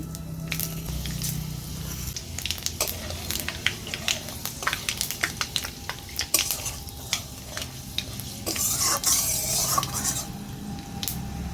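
Bay leaves, dried chillies and panch phoron sizzle in hot oil, with a steady crackling fry broken by frequent clicks and scrapes of a spoon stirring in the pan, close and alone.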